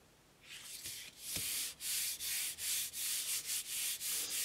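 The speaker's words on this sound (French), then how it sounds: "je reporte en frottant" Paper being rubbed by hand across a gel printing plate to transfer a blue print, a steady run of close, dry rubbing strokes in quick rhythmic bursts.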